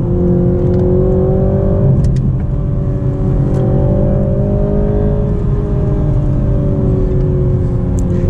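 A Toyota Supra 2.0 with a turbocharged four-cylinder engine and automatic gearbox drives on the road, its engine drone loud and constant from inside the cabin, the pitch rising and easing slightly under steady road noise.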